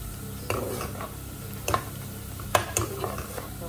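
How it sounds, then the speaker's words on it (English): Garlic browns in a frying pan under a soft, steady sizzle, broken by several light clinks and scrapes of a utensil stirring against the pan. "I've put the garlic in, so I'm just waiting for the garlic to finish to brown"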